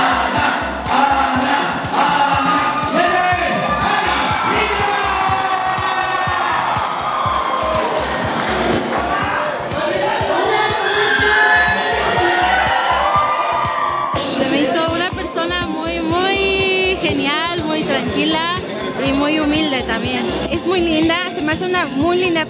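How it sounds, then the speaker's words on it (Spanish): A live audience applauds, cheers and whoops to welcome a Japanese idol singer onto the stage at a show in Mexico, with a loud crowd roar and hubbub and voices shouting over it for the whole stretch. "Nos vamos a empezar a aplaudir para recibirla."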